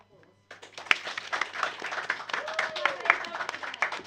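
Audience applause for the players and game master after a live tabletop roleplaying session, a broad, steady wash of many hands clapping with scattered whoops, starting abruptly and carrying on loudly for several seconds.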